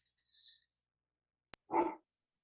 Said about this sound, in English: just as I'm about to speak, the dog starts barking